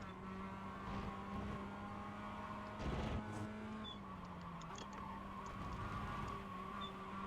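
A Mazda MX-5 race car in the iRacing sim holds a steady engine drone through a corner, pitch shifting as the driver lifts and gets back on throttle, with a brief louder rush midway and faint tire noise.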